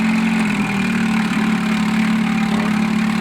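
An Evinrude 4 HP outboard motor idling, a loud, even low hum with a steady buzzing drone and no breaks or revving.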